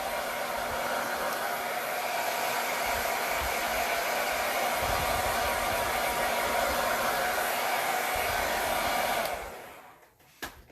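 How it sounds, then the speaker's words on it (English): A hair dryer blows close and steady with a constant rushing whoosh for about nine seconds, then switches off, leaving faint handling noises. "Hit it with the blow dry one more time."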